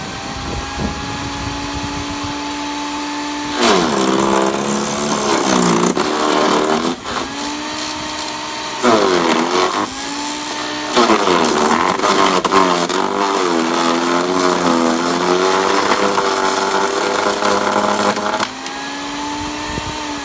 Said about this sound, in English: So now we have to just plug it in and try shredding some branches.